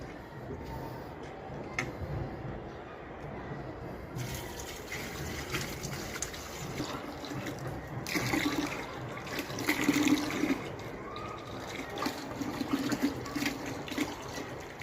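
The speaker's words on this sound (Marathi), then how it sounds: "त्याच्यामध्ये थोडंसं पाणी आपलं साधं टाकायचं" Soft, quiet splashing and trickling of plain water poured into potted plants about a year old, with a few gushes and scattered small knocks.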